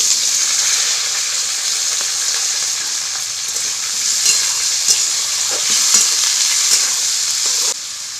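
Potatoes frying in hot oil spiced with bay leaves, dried red chilli and five-spice seeds, a loud, bright, continuous sizzle with occasional stirring knocks, heard alone.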